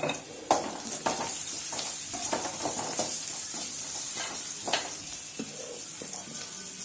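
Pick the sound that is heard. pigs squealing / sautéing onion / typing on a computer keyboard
sautéing onion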